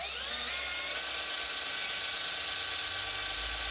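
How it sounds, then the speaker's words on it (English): High-pitched power drill whining steadily while machining organ pipe rollers, close and continuous with a low rumble underneath. "We're drilling towards our hand."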